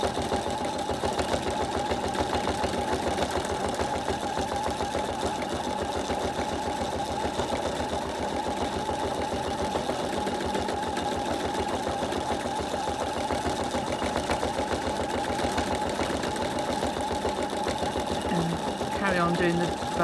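Sewing machine stitching free-machine embroidery on a campervan appliqué, a continuous rapid mechanical whirr with steady needle ticking throughout, close and even in level.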